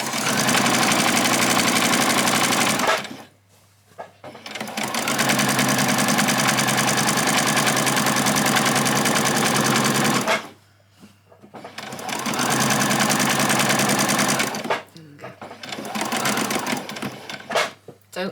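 A sewing machine runs in long loud bursts while sewing a French seam on a child's dress, stopping briefly between runs before starting again.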